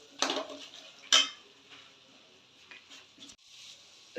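A spoon scrapes and clanks against a pan while vangibath powder and red chilli powder are stirred into a capsicum rice mixture, with two sharp metallic knocks and softer scraping in between, close and fairly quiet.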